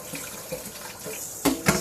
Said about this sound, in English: Rinse my bowl. Barely fits in the sink.